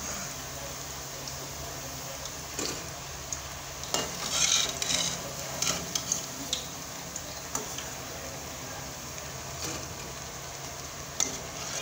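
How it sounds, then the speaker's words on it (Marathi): Baati, round wheat dough balls, fry in hot oil, a steady soft bubbling sizzle with scattered light ticks and a brief louder burst of spattering, no voices present. "आपण दुसऱ्या पण बाट्या तळून घेऊ. टाकू सर्व तेलामध्ये."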